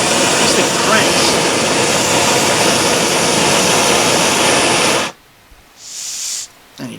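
Foxelli backpacking stove on a fuel canister burning at full flame, a loud steady roaring hiss close by that cuts off abruptly, followed by a short softer burst.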